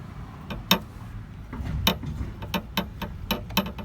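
A ratchet on a 20-inch extension clicks while loosening a 13 mm nut on an MK3 GTI VR6 during a water pump job, a series of sharp, quick ratcheting clicks in uneven bursts, close and fairly quiet.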